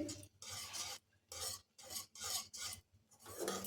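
Milk being stirred little by little into white sauce for pasta, a spoon scraping the pan in rhythmic bursts of rasping strokes with short pauses between them, close and moderately loud with no talking.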